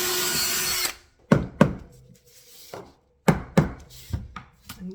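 A drill drives 2-inch trim head screws through wood flooring in a farmhouse, in short sharp bursts after a noisy opening, each burst fading quickly, with quiet gaps between.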